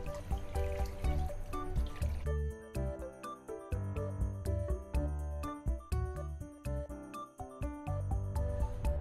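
Water poured steadily into a pot of rice for a sweet Vasant Panchami rice dish, a continuous close trickling and splashing stream with bubbling texture that runs throughout without pause.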